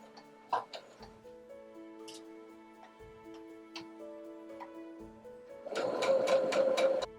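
A sewing machine stitches around a fabric curve, with scattered ticking and clicking that builds into a fast, steady run of loud mechanical stitching near the end.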